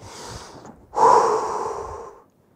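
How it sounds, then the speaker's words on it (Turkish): Deep breath drawn in through the nose and let out through the mouth during a rest break in an exercise session. A soft inhale is followed by a longer, louder breathy exhale lasting over a second, with no talking. "Derin nefes al ver. Burundan aldık."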